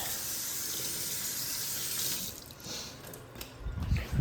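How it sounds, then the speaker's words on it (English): Dishes rinsed in a sink under a steadily running kitchen tap, a constant hiss of water with splashing and clatter growing stronger toward the end. "All you have to do is just just rinse these."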